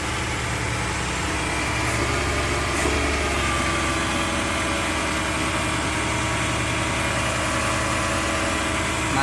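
A carbureted Suzuki Multicab F6a engine idles steadily and close by, a continuous buzzing run with a faint catch near the start and no voices.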